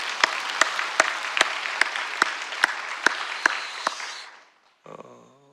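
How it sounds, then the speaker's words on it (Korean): Congregation in a church clapping in unison with sharp, evenly spaced beats in thanks at a Thanksgiving Sunday service, fading out before a brief voice enters at the end. "하나님께 우리가 먼저 감사의 박수를 올려드리겠습니다"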